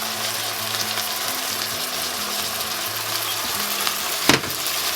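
Chicken and garlic fry in a pan with a continuous dense sizzle throughout, a low rhythmic mechanical hum underneath and a brief louder hiss near the end.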